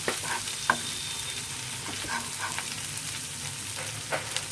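Turmeric, chili and coriander powder sauté in a pan for a fish and radish curry, giving a steady sizzle broken by occasional scraping and stirring clicks from a spoon, close up with no voices.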